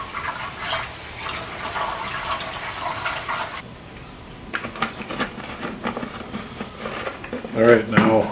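Vinegar pours in a steady stream into the gas tank of a Vulcan 750 motorcycle, then the liquid gurgles and splashes in shorter bursts toward the end.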